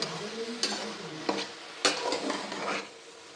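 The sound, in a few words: stirring cabbage and egg in a frying pan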